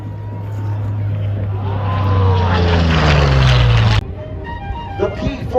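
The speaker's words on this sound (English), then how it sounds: "The P-47 Thunderbolt coming down the show line." A P-47 Thunderbolt roars low down the show line at an airshow, its piston engine swelling louder and dropping in pitch as it passes, then cutting away abruptly.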